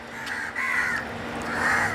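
Several crows caw in overlapping, harsh calls across the whole stretch, fairly close and loud against a steady outdoor background.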